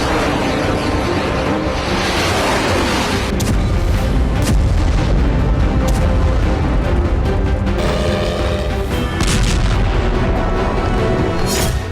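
Loud, continuous blasts and booms from Russian drone strikes in Ukraine, with sharp impacts standing out over a dense rumbling wash that lasts throughout.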